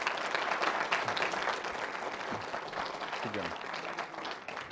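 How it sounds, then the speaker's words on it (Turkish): Audience applause for a reader at a Turkish folk music program, a thick, continuous wash of clapping from a crowd, steady and moderately distant, with a voice briefly heard underneath. "Alkışlıyoruz Yusuf kardeşimi."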